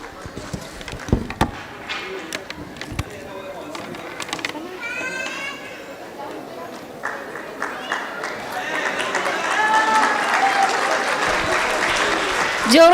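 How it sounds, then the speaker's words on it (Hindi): At a children's play performed in Dubai, an audience bursts into applause that swells and grows denser toward the end, with children's voices and bustle mixed in. "जोरदार तालियां"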